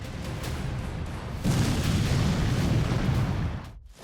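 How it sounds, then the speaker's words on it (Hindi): Explosions from strikes on terror sites in Pakistan come as a loud continuous rumbling blast that swells partway through and then cuts off abruptly, with no voices. "ये वीडियो बताता है कि कैसे भारत ने एक के बाद एक पाकिस्तान में बने आतंकी ठिकानों को उड़ाया था"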